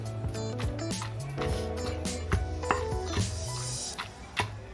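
Onion, tomato and green chilli being pounded in a stone mortar, with repeated thudding and grinding strikes at an irregular pace, close and moderately loud, over a steady tonal background.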